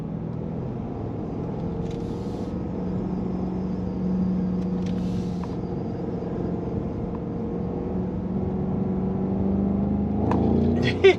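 A 2022 BMW M550i's engine drones and rumbles from inside the cabin, swelling steadily under acceleration, with faint clicks and a small bump near the end.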